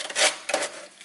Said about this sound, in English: then I sandpaper these areas also in here